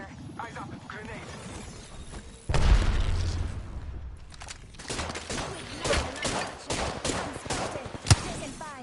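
Automatic weapon fire in Apex Legends bursts out in rapid volleys with a heavy boom, under and between in-game voice callouts.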